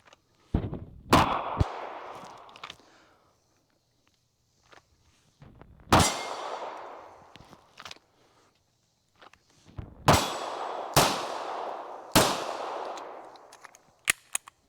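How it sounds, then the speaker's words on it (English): Canik TP9-SFX pistol firing outdoors: several sharp, loud shots spaced irregularly, each with a ringing decay, separated by quiet gaps with faint handling and footstep noises. "this is a really comfortable gun to shoot"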